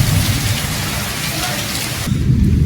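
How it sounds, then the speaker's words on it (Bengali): Heavy rain pounds down in a loud, continuous roar with deep rolls of thunder during a stormy downpour, the rain abruptly easing near the end before low rumbling returns. "মুষলধারে বৃষ্টি হচ্ছে, আর তার সাথে বিদ্যুৎ চমকাচ্ছে তার থেকেও জোরে।"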